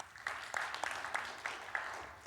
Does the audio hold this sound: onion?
no